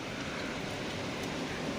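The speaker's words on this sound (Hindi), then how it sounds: "आप आवाज़ सुन रहे हो, बाहर हो रही है बहुत ज़्यादा बारिश।" Heavy rain falls outside before dawn as a steady, even hiss with no breaks, soft and fairly distant, with nothing else rising above it.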